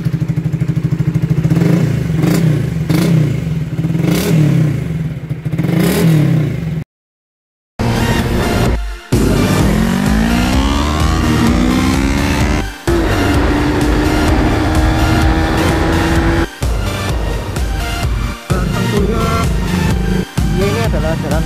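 A motorcycle engine, cold and warming up before a ride, revs and runs steadily and loud and close, with a short break partway through and talk over it.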